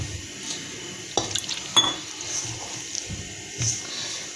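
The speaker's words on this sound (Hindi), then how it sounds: "अब मैं इसको डो के लिए प्याले में ऐड करूंगी पानी को और थोड़ा थोड़ा करके पानी डालकर इसको गूंदी जाऊंगी।" Water poured into a bowl of flour while dough is mixed and kneaded by hand for savory fried chicken-vegetable doughnuts, with soft scattered knocks, scrapes and wet squelches at close range and no talking.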